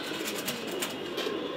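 Pigeons cooing softly in a loft, a few low murmuring coos repeated under a faint steady background, fairly close but quiet, with no talking.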